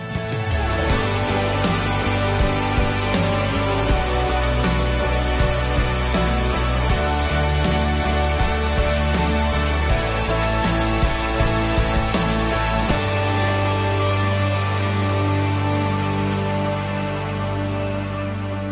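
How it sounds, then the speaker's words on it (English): Drums play steadily in the background in Kenya ahead of a well opening ceremony, layered with a dense, continuous musical texture that stays loud and even throughout, with no talk over it. "I'm not sure if you can hear the drums just going there in the background"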